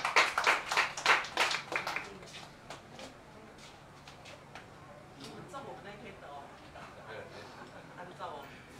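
An audience claps in a brief burst of applause welcoming two performers, Savi and Buni, at a family event, the clapping loud at first then fading under talk and scattered background voices.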